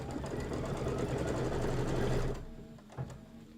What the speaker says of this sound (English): it's going to sew this line right here